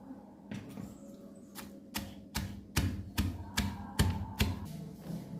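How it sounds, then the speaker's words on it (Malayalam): Garlic and sliced onion pounded bit by bit in a mortar, about a dozen sharp, evenly spaced thuds growing slightly louder, close and alone with no talk. "അപ്പോൾ നമുക്കിത് കുറേശ്ശെ ഇട്ടൊന്ന് ചതച്ചെടുക്കാം"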